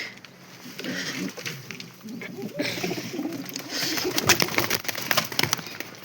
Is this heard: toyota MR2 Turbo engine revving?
no